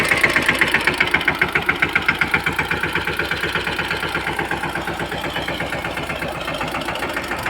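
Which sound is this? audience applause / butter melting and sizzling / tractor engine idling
tractor engine idling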